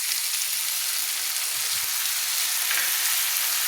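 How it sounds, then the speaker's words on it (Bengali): Mustard paste being sautéed with Malabar spinach stems in a pan, a dense continuous sizzle heard up close with no voices. "সর্ষে বাটাটা দিয়ে আমি ভালো করে পুঁই মেচুরির সঙ্গে মশলাটা আমি কষিয়ে নিচ্ছি"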